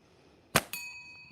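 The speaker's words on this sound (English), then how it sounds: "Try and hit that stinking bell." A slingshot shot strikes a metal bell outdoors, giving one sharp clang followed by a second lighter ding that rings on with a sustained metallic tone, fairly loud against a quiet background.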